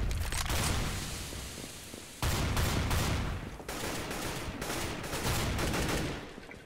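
Gunfire from an M4A4 rifle in Counter-Strike: Global Offensive, heard as rapid, loud bursts of shots with a brief pause and dense continuous fire, filling the whole stretch.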